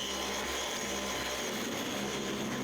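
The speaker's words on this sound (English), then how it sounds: "So I'm gonna vacuum this real quick." A household vacuum cleaner runs steadily in a home, a constant broadband whooshing drone at an even level from start to finish, with no speech over it.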